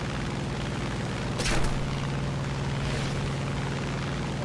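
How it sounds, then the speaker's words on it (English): Bombs dropped from an aircraft explode in War Thunder, heard as a dull booming burst over a steady engine drone, with a fainter rumble following shortly after. "Bombs away!"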